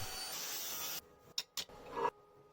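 A flap disc on an angle grinder smoothing a stainless steel weld: roughly a second of loud, steady abrasive rasping, then a few short bursts of grinding contact before the tool falls quiet.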